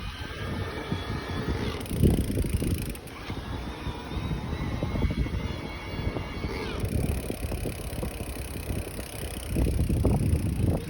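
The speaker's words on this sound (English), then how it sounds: "The noise of the motor." Electric motor of a 2020 Whyte E-150 RS e-MTB on a trail ride, a low whirr buried under creaks, rattles and drivetrain clicks, moderately loud and continuous.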